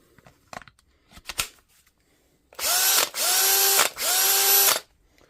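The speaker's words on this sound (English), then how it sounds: "we'll try her on a drill" Cordless drill powered by a repaired M18 battery: a few faint clicks, then three loud, close whirring bursts of about half a second to a second each, separated by brief pauses.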